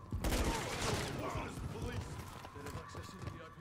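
Hurricane gun on single fire in Modern Warfare 3, a loud close burst of rapid shots at the start that trails into dense battle noise with more firing and faint voices underneath.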